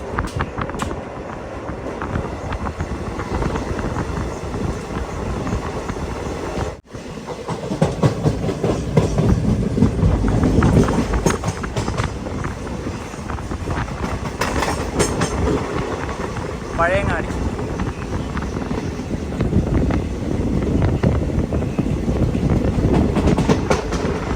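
Mangaluru Express sleeper-class train running near Pazhayangadi, a steady loud rumble and clatter of wheels on rails throughout, with a brief dip early on and faint wind buffeting the microphone.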